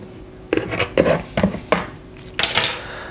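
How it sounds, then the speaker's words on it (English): Cantaloupe melon seeds are scraped out into a bowl with a utensil, making several close, wet scraping strokes and soft knocks against the bowl in an uneven rhythm. "I'm gonna take a bowl here and just empty out these seeds"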